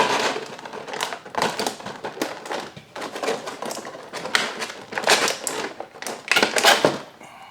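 Plastic and cardboard packaging on vintage Sideshow Universal Monsters toys crinkles and crunches close up. The handling comes in busy, irregular bursts of crackling and tearing with short pauses between them, and nobody speaks.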